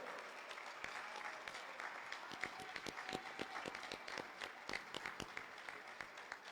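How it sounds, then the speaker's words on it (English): A hall crowd gives faculty and staff a round of applause at a virtual school graduation ceremony, steady moderately distant clapping that continues evenly throughout. "please stand and give them a round of applause for their dedication and tireless"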